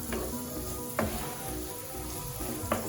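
Onions fry in a pan with a steady close sizzle, a few louder stirring scrapes around one and just under three seconds, no voices.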